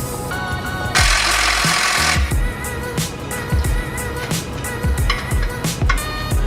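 Impact wrench or similar power tool zipping off clutch bolts on a 5.2L Coyote engine install, a sustained loud burst of whirring and hammering around one second in, followed by repeated clanking tool and metal knocks in a garage.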